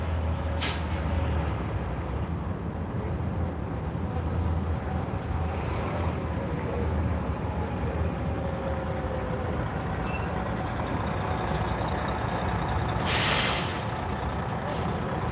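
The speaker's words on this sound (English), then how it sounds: "Here comes the next bus." City bus pulling in at a homeless shelter set up at the National Western Complex, a rumbling diesel engine under a long stretch of traffic noise, punctuated by loud air-brake hisses near the start and again toward the end.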